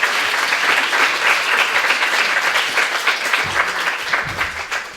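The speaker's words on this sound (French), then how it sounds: "Vous pouvez m'applaudir." Loud, dense audience applause at a French book talk event, many hands clapping in a close, continuous wash, with a brief murmur of voices near the end as it starts to thin.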